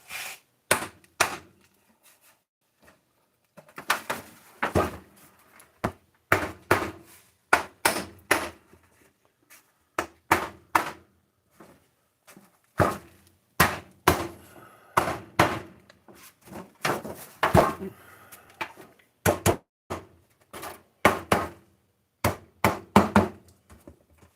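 Sharp hammer blows drive a loose nail into wood, struck in quick clusters of knocks separated by short pauses, close and loud with no talking.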